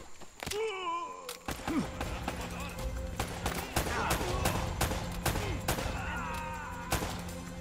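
Dense gunfire in the video game Uncharted rattles out in rapid bursts and single shots almost nonstop, mixed with game voices and effects.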